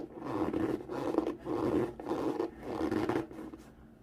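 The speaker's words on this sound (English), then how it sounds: "That sound is leather on leather." Leather rubbing against leather on a Puma Ralph Sampson sneaker, creaking in four long, strained strokes close up with brief pauses between them, loud and groaning, no talking.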